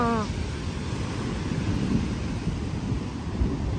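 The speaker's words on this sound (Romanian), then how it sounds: "Mamă, ce valuri sunt!" Ocean waves break on a beach in Bali, a steady loud rushing wash of surf that fills the whole stretch without pause.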